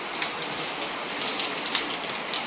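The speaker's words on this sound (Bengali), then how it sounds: "বৃষ্টি বৃষ্টি দেখো, আকাশে মেঘে ভর্তি।" Rain falls steadily under a cloud-filled sky, a dense, even patter of drops on surfaces with small crackling spikes throughout and no talk.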